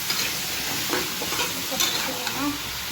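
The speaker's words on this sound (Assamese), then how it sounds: "দিনত বেঙেনা আলু ভাজিছোঁ" Eggplant and potato fry in a pan on a home stove, a soft steady sizzle broken by light scraping stirs, heard close with no voices.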